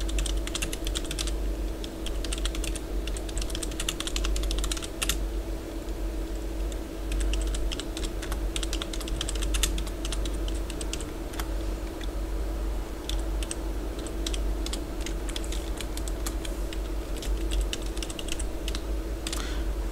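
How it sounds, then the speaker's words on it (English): Someone types code statements into a Python setup file on a computer keyboard. The close, steady clatter of keystrokes runs for twenty seconds with brief pauses, over a constant low background hum. "you have to type the following statements"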